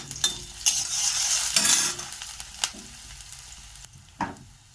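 Chopped garlic and green chili frying in oil in a pan, with a steady close sizzle and several sharp scraping stirs of a spatula against the pan, a last stir near the end.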